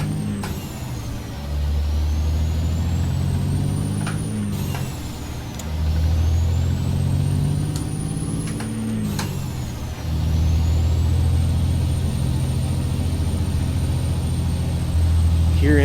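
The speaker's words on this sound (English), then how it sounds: "Love the sound of this engine." A heavy wrecker truck engine in American Truck Simulator drones and revs through gear changes, with a whining pitch that climbs and drops in repeated surges, loud and close, and someone talking at times.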